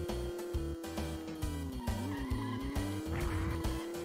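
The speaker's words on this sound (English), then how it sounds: "Whoa, we're drifting a little bit." A race car's tires squeal in a long sustained screech while drifting on an asphalt track, the engine droning loudly beneath with shifting pitch.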